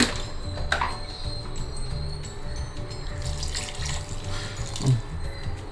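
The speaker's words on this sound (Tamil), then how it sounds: "கொஞ்சம் தண்ணி விட்டுக்கலாம்" A steady stream of water pours and splashes into a cooking pot with chopped tomato, continuous for several seconds with a faint clunk of a vessel.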